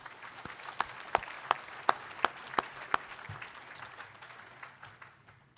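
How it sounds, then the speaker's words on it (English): Sparse, scattered hand clapping at a livestock judging awards ceremony, a few distinct claps in a loose rhythm early on, then thinning into softer, quieter applause. "Let's give them a nice round of applause."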